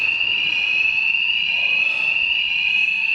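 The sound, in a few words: fire alarm going off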